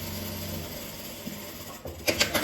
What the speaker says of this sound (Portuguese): Vou costurar por cima aqui agora